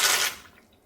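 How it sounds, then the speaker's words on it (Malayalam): Dry macaroni drops into a pot of rolling boiling water, making a short, loud rushing splash and rattle that quickly fades into a quieter bubbling simmer. "നമ്മുടെ വെള്ളം നല്ലതുപോലെ തിളച്ചു. ഇനി നമുക്കിതിലേക്ക് മക്രോണി ഇട്ട് കൊടുക്കാം."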